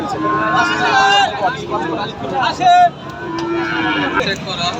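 Cows moo in drawn-out, close calls at a cattle market over a busy background of people talking, with one louder moo standing out near the end.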